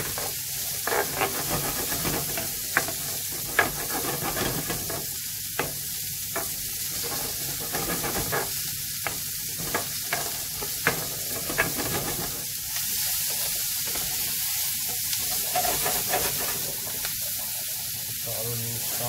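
Onions sizzle in butter with a steady, close frying hiss, broken by irregular crackles and the occasional clink of stirring.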